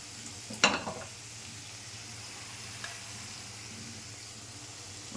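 Fish is dropped into spice paste frying in oil in a pan, giving a sudden loud sizzling burst that fades into a soft, steady frying hiss.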